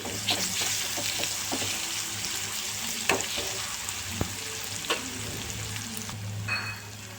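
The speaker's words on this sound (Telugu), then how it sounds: "అల్లం పేస్ట్ పచ్చివాసన పోయేంత వరకు ఫ్రై చేసుకోవాలి" Ginger paste fries in a pan for tomato curry, giving a steady close sizzle with occasional clicks of stirring against the pan.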